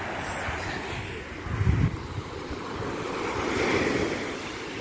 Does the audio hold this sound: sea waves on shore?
yes